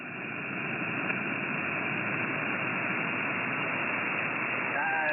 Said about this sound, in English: All it sounded like was pink noise here, with somebody talking in the background.